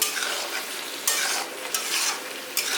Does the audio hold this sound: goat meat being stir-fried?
yes